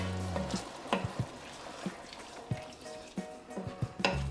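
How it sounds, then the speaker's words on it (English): A spatula stirs chili sauce with chili powder in a pan, with soft scrapes and knocks repeating irregularly over a faint, low sizzle. "I'm going to stir this up"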